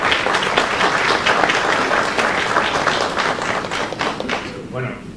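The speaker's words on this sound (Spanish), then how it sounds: "Por favor, démosle un fuerte aplauso al doctor." At a UN anti-corruption summit, the audience breaks into loud, sustained applause to welcome a doctor to the stage, many hands clapping continuously before it tapers and a brief voice emerges near the end.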